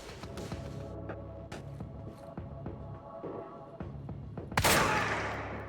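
Semi-auto shotgun fire in the video game Quantum Break: several sharp blasts spaced through a noisy firefight with a steady low background, ending in one loud close boom that rings out and fades.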